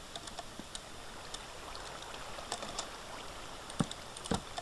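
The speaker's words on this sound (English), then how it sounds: "but let's put the water down here." Water flowing in a wheat farm video game, a quiet, steady trickling wash with scattered faint clicks and a couple of sharper ticks near the end.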